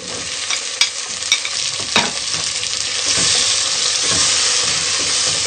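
Tomatoes with garlic-ginger paste stir-fried with browned onions in a pan, a loud close sizzle with scraping stirs early on, rising into a dense steady hiss.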